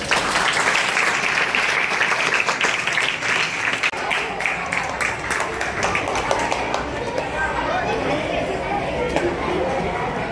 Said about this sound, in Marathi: जोरात टाळ्या वाजवून